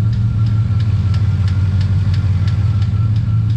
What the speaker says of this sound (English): definitely some kind of tapping or something going on